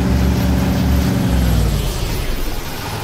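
A propeller airplane in the video game DayZ drones loudly and close, with a heavy low engine roar that slowly fades and thins toward the end.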